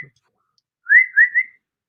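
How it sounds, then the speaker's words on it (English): A person whistles a short three-note phrase, clear and close, with the notes slurring into one another over about half a second after a brief silence. "that was me whistling"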